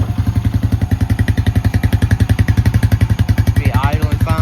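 A Honda Rancher 350 ATV engine idling after a carburetor replacement: a loud, close, steady pulsing putter with an even rhythm, and a voice briefly starts speaking near the end.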